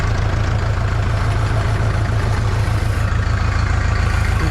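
A homemade Scout TE-504 cultivator engine idling close by, a steady low chugging rumble that holds an even rhythm throughout.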